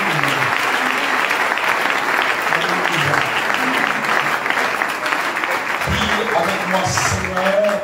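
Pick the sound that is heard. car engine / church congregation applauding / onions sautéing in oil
church congregation applauding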